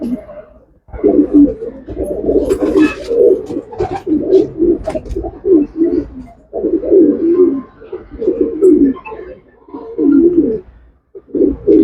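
Pigeons kept for sale at a loft coo in repeated, loud, close rolling phrases that run almost continuously, with brief gaps between bouts.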